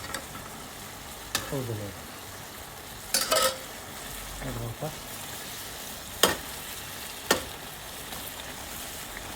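Chicken fries in a pan with a soft, steady sizzle, broken by a few sharp clinks and scrapes of utensils stirring. A brief spoken word sits over the cooking noise.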